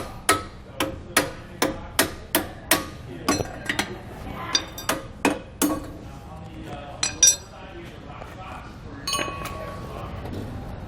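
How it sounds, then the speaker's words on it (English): Sharp metallic hammer taps ring out in a steady rhythm, about a dozen close strikes tapping out leaf spring suspension bolts on a 2013 Dutchmen trailer, then slow to scattered hits before the clip trails into quiet. "You can just tap those out with a hammer."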